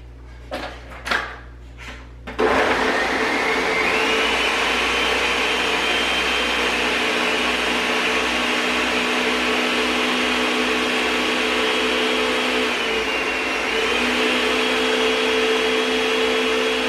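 A blender whirs loudly and steadily, blending a smoothie of almond milk and soaked chia seeds, after a few quick clicks and knocks as it starts; the motor drones for the rest of the stretch with a slight dip in pitch partway through.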